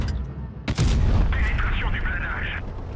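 Rapid burst of tank cannon shots from an AMX 50B autoloader in World of Tanks Blitz, a loud boom followed by a sustained rumbling, whining stretch of battle noise.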